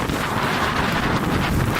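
Strong wind gusting at a paraglider launch, a broad roaring rush buffeting the microphone continuously and loudly.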